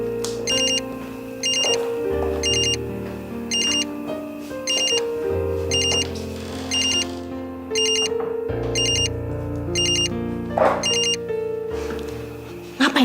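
A phone rings on and on with a repeating electronic ringtone, unanswered, heard at moderate distance over a soft musical background in an indoor domestic scene.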